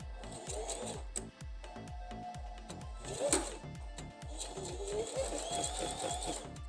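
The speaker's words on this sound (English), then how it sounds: "So let's do a little test run." A sewing machine stitching lightweight nylon fabric held with sewing clips, running in a steady fast rhythmic chatter of needle strokes for several seconds, close and continuous with a brief hitch partway through.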